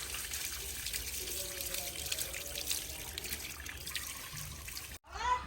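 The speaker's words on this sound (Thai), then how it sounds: "ใช้น้ำฉีดล้างเข้าไปอย่างนี้เลยนะคะ ล้างเขาให้เอี่ยมเลยนะคะ" Water sprayed from a hose to wash taro plant offsets makes a steady, hissing splash that runs on, then cuts out abruptly near the end.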